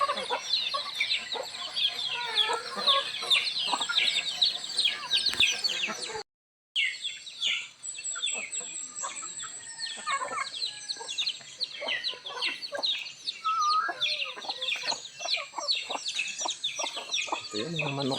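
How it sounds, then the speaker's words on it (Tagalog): Native chickens cluck and chirp together in a rural provincial yard, a busy continuous chorus of close fowl calls with a brief silent break partway through. "Ito yun yung manok ko guys."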